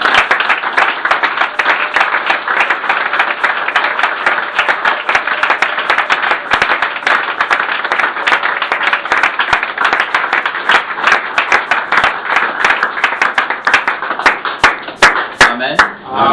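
A church congregation claps rhythmically and applauds, steady loud handclaps filling the whole stretch, with voices audible beneath and the clapping thinning out near the end.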